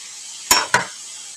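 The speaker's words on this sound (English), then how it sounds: "keep it at level 6 and just stir fry" Broccoli and chicken stir-frying in a pan: a soft background sizzle broken by two sharp, close scrape-and-clink hits of a utensil against the pan in quick succession.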